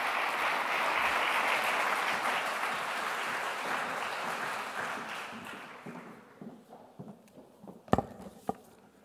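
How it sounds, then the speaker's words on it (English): An audience at a European standardization summit opening applauds warmly; the full clapping fades after several seconds into scattered claps and a few sharp knocks near the end. "Please give her a warm round of applause, ladies and gentlemen."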